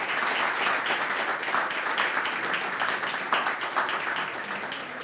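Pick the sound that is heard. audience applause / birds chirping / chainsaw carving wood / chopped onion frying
audience applause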